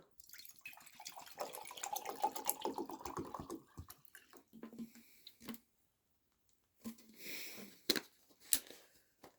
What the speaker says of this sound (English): Pour some water into this mug.